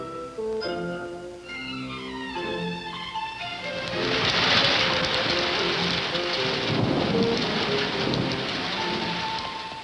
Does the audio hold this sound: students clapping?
no